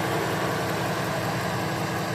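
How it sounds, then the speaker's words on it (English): A modern Ford Boss 302 Coyote V8 rumbles at a steady idle close by, a dense continuous drone with no revving and no voices. "there you're looking at the Boss 302 engine"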